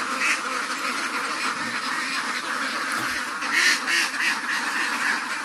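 Several ducks quack repeatedly at close range, their calls overlapping in uneven bursts against a steady background hiss.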